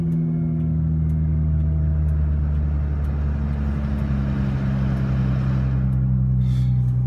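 A Nissan GT-R engine rumbling into life, a deep steady low idle drone heard close and continuous, swelling slightly midway with no talking.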